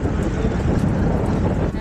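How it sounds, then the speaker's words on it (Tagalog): Steady wind buffets an Insta360 One X2 camera moving at 70 kph, with a low, rumbling roar throughout, broad and unbroken. "Medyo mahangin po yung panahon ngayon."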